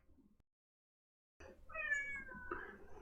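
A house cat lets out one drawn-out, rising and falling meow close by in a quiet room, following a short silence.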